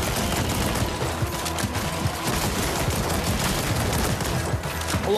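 Sustained rapid gunfire from a mobile turret in the VR shooter After the Fall, a dense, continuous rattle of shots that stays loud and unbroken throughout.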